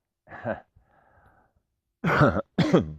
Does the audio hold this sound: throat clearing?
yes